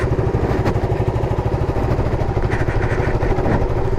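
A 2018 Bajaj Avenger 220 Cruise motorcycle engine runs steadily while being ridden, a loud, continuous low throbbing drone with a faint mechanical clatter.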